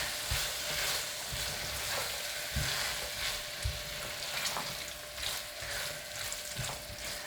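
Canned chickpeas stirred into a sizzling lamb mince keema curry: a constant frying hiss with a series of low, soft thuds and scrapes from the spoon working through the thick mixture, heard close.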